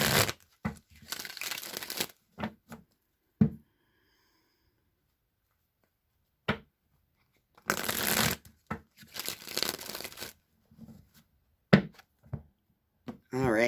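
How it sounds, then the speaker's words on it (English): A Rider-Waite tarot deck is shuffled by hand in several papery riffling bursts, close and crisp, with speech between the bursts. "So now I'm just going to shuffle the Rider-Waite tarot deck 3 times"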